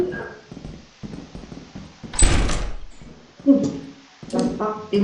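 A door opens with a sharp thunk and rush inside the video game Lethal Company, standing out loud and close between bursts of people talking.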